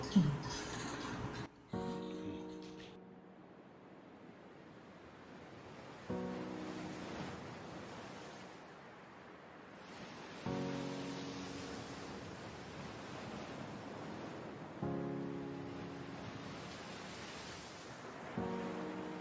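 Atlantic ocean waves from a film trailer rumble as a steady, broad wash of surf that swells and recedes over about nineteen seconds, with short tonal bursts of sound layered on top at intervals.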